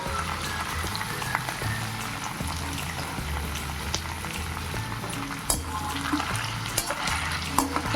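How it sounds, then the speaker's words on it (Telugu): Paneer cubes frying in plenty of oil in a pan, a steady close sizzle broken by scraping stir strokes and occasional spatters, continuous and with no talking. "ఫ్రై చేసుకోవడానికి పన్నీరు. ఇలా పన్నీర్ ముక్కలు వేసేసి మొత్తం"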